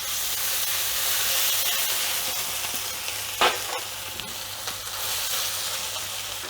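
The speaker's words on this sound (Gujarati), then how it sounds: "હવે આપણે એમાં હિંગ નાખશું પછી આ લસણ નાખશું આ આદુ ને મરચાંની પેસ્ટ નાખશું" Asafoetida, garlic and ginger-chili paste sizzle steadily in hot oil for a Gujarati dal bati, a continuous close hiss with one brief sharper burst of spatter midway.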